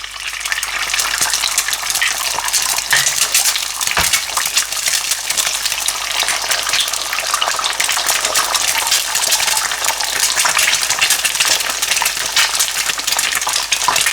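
Loud, constant crackling sizzle of eggs frying in hot oil in a wok, with a brief metallic clink partway through.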